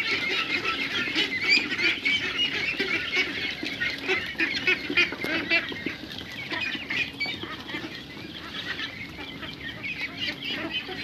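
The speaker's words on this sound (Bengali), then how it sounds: "হাঁসগুলো খাচ্ছে সব" A flock of ducks and geese honking and quacking continuously while feeding, a dense busy chorus close by with no talking.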